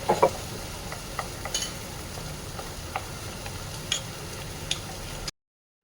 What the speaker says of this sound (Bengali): কাঁচা লঙ্কা কুচি দিয়ে দিলাম অল্প আর ধনে পাতা কুচি এইটা জল দিয়ে ভালো করে মিশিয়ে নিতে হবে